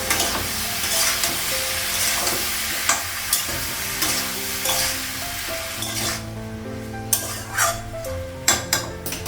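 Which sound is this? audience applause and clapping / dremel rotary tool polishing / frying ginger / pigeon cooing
frying ginger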